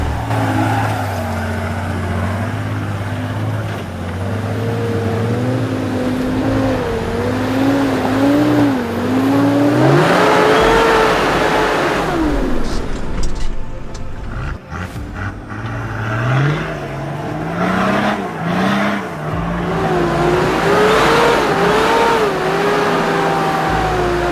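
4WD towing a trailer up a slippery high-country climb, its engine revving hard and rising and falling in pitch over about 24 seconds, heard close with wheelspin bursts and no speech.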